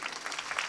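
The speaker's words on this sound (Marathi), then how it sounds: "टाळ्या वाजवा ना जोरदार." A brief, faint patter of audience clapping at a Marathi devotional kirtan, a soft, even spread of hand claps heard from some distance.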